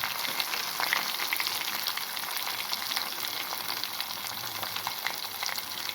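Onions frying in a pan for rasam sizzle and crackle steadily, a bright continuous hiss with small pops, fairly quiet and uninterrupted, no talking.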